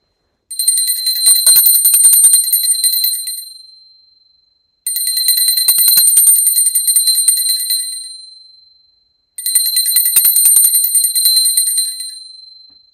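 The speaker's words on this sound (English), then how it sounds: "Now, I take a bell to offer the element of sound." A bright, high-pitched ritual bell rings three times during a pooja, each long shimmering ring sustained for a few seconds before decaying into silence.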